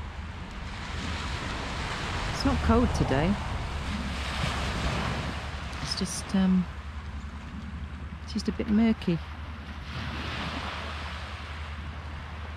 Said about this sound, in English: listen to the sound of the waves coming in